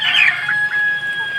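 Chicken on a farm after a typhoon, a short bright squawking cluck close by, then a quieter call trailing off, with no talk.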